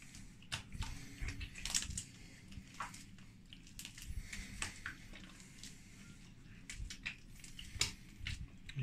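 Wet sourdough focaccia dough squeezed and kneaded by hand with added water: a continuous run of close, sticky squelches and slaps in an irregular rhythm, fairly loud and heard without talk.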